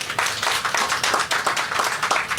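An audience at the launch of a Safe City police initiative in San Fernando, Trinidad, claps for the police, a close, continuous round of many hands with a steady fluttering rhythm.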